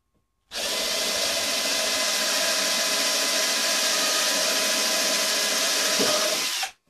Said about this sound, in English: then we'll drill some pilot holes in here